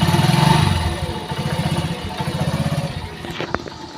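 A Honda TMX 125 motorcycle engine idles close by with a steady low putter and light mechanical clatter, running quietly before a brief sharper clunk near the end.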